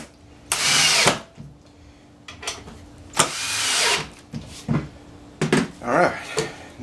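A power drill drives screws into wooden leg braces on a shaving horse, with several bursts of whirring, the longest near the start and middle, separated by pauses and shorter clunks of handling.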